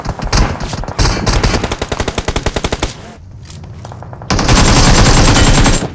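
Video game gunfire rattles in rapid automatic bursts, loud and close, with rhythmic shots broken by a short lull before a dense, sustained volley.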